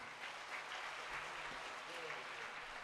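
A talk show audience of Islamic boarding school students claps for a guest: a steady, faint wash of applause that holds evenly throughout.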